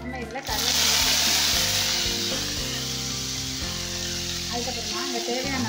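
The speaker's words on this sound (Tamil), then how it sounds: "இந்த கடுகு நல்லா பொரிஞ்சிருச்சு" Mustard seeds and fennel seeds spluttering in hot oil in a pan, cooked for Bombay chutney: a loud, close, continuous sizzle with scattered pops and crackles throughout.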